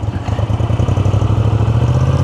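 A Moto Guzzi V7 Sport motorcycle engine runs close and loud in a short burst, its rapid pulsing thump repeating evenly like a throaty idle lifting slightly.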